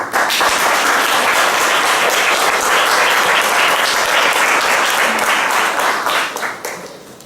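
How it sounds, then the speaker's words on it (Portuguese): A congregation at Mass gives a loud, dense round of applause, many hands clapping steadily nearby before tapering off over the final second. "A salva de palmas"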